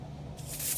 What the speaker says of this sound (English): Look how smooth that sprayer sprays.